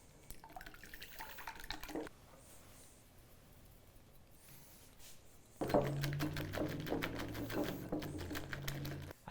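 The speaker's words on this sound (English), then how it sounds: "I'm going to whisk them until they're nice and firm." Egg whites with cream of tartar being whisked for a cheese soufflé, a steady rapid clatter of the whisk against the bowl, faint at first and then louder and denser in the second half.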